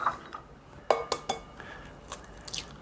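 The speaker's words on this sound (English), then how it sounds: "So next, I'm going to put my eggs in." Eggs for a fruitcake tap and crack against the rim of a bowl, giving a few sharp, close clinks followed by soft shell sounds, fairly quiet and with no talk.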